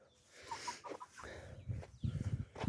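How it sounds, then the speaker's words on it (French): Young roosters about two and a half months old, with other chickens, clucking and calling in a poultry yard at a breeding farm, in short irregular bursts with louder clucks near the end. "vous revoyez un peu les petits coqs"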